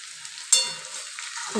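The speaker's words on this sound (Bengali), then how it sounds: "দেখো লাল করে আলুগুলো ভেজে নিচ্ছি" Potatoes frying in a pan of hot oil for a vegetarian potato curry, a steady soft sizzle with a sharp scraping stir near the start and another clatter at the end.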